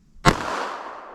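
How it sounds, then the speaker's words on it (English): Single sharp report from a Fort Scott TUI .32 ACP pistol fired into ballistic gel, close and loud, with a short decaying echo after the crack. "Now let's hit that with our 32 ACP."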